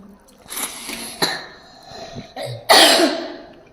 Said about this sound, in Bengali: কাশি আর কমছে না